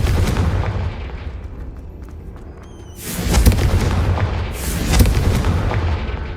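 Two heavy booming blasts from the Confringo fire spell in the game Hogwarts Legacy, each a deep explosion with a crackling tail, loud and near over a low rumbling background.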